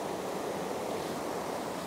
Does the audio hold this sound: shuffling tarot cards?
no